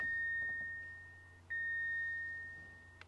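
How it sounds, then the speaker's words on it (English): A steady electronic car warning chime sounds twice, triggered by a CAN bus message, the second starting abruptly mid-way, each slowly fading over a low background hum. "I'm going to send a message that will trigger the warning chime"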